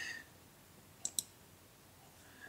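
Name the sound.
mouse click on a word in SpinnerChief software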